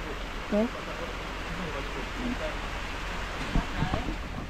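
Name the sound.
light rain falling outside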